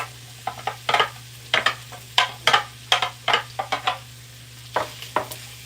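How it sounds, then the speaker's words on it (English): Ground beef with peppers and onions frying in a pan while being stirred, with repeated close scrapes and clacks of a spatula in uneven bursts over a low sizzle and a faint steady hum, with no talk. "we're just going to kind of stir this around, let our peppers start to get cooked a little bit"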